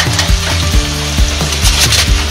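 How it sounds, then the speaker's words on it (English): Asparagus sautéing in a pan, served alongside New York strip steaks, gives a steady close sizzle throughout, with repeated low knocks and scrapes as the spears are stirred and tossed. "So we are just going to keep sautéing this up"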